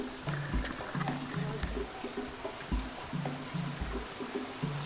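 Water tumbles down the tiered Cascata das Furnas near Vila Nova de Milfontes, Portugal, as a continuous hiss and rush. Regular low thuds and brief tonal patterns sit on top, and a faint voice may be present.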